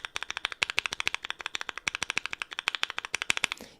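Rapid, even keystrokes on a Tofu mechanical keyboard, typed on keys away from the mounting screw, form a close, crisp clacking run of roughly forty distinct presses in under four seconds.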